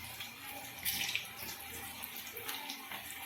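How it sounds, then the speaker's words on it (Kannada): Okra pakoda, battered bendekai, frying in hot oil gives a faint, steady hiss and crackle with small bursts of sizzling. "ಈಗ ಕಲಿಸಿಟ್ಕೊಂಡಿರೋ ಈ ಬೆಂಡೆಕಾಯಿ ಎಲ್ಲ ಎಣ್ಣೆಗೆ ಬಿಡ್ತಾ ಇದ್ದೀನಿ ನೋಡಿ"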